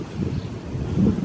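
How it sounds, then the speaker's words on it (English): Wind blows steadily and fairly loudly across an outdoor microphone, a low continuous rumble and buffeting with no speech over it. "It's windy here."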